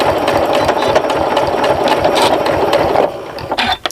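A sewing machine runs a steady back stitch through a tote bag for about three seconds, a close continuous mechanical whir that stops abruptly, followed by a few small handling clicks.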